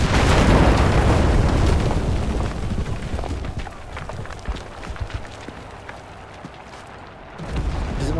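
An explosion in the video game Enlisted booms loudly at the start, then rumbles and crackles away into fainter debris sounds and distant pops.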